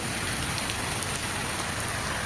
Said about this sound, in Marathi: खूप जोरात पाऊस पडतो आहे.